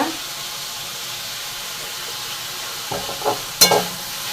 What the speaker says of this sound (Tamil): நல்லா வதங்கட்டும் இந்த குழம்புக்கு தேவையான தனி அப்படிப்பா